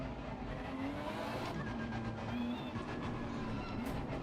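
A GT3 race car engine in Assetto Corsa Competizione drones steadily at a low, even level, a continuous mechanical hum with faint higher whine layered on top and no talking.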